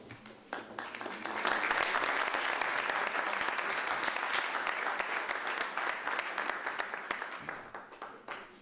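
Audience applause at a book presentation, steady clapping from a sizable crowd that swells within the first second and holds loud and dense throughout, tapering slightly near the end.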